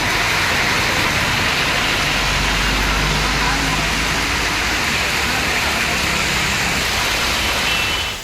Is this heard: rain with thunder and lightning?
yes